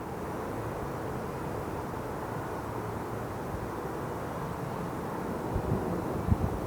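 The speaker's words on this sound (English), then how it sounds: "There's a definite breeze." A breeze blowing outdoors, a steady, fairly loud low rumble of wind against the microphone with a few gusty bumps near the end and no talking.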